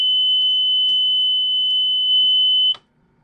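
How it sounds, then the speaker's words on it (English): A diesel engine's audible warning alarm sounds as one steady, high-pitched continuous beep for nearly three seconds, then cuts off abruptly into near silence. "your audible alarm's working"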